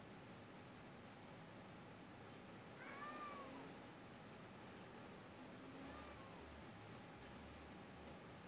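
A cat meows faintly at a distance, two soft calls spaced a few seconds apart, over steady background hiss in a game playthrough.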